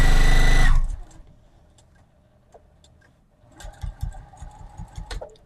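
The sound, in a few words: Juki sewing machine sewing binding on a table runner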